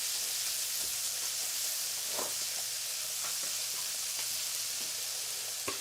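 Onions frying in a pan for fettuccine alla papalina, a steady close hiss of sizzling oil with occasional soft stirring clicks, no talk.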